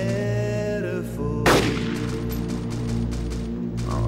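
Gunfire from the video game DayZ Mod for Arma 2 comes as one sharp, loud shot cracking over a steady droning game background, followed by faint distant pops; no voices.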